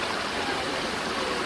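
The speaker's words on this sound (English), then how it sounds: "just listen to the babbling brook" A babbling brook on a woodland hike at Teatown flows in a soft, steady wash of trickling water, close and unbroken, with no voices.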